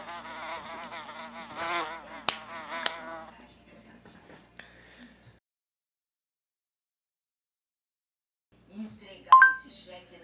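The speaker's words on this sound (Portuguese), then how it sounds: "A abelha faz assim." Google Assistant plays a bee's buzzing: a steady, insistent drone for about five seconds with a couple of sharp clicks in it. A long pause follows, then a short burst of a synthetic voice.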